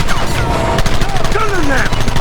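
Loud rapid gunfire rattles in Red Dead Redemption's finale shootout, dense bursts of shots and booms packed together over a couple of seconds, with shouting voices mixed in.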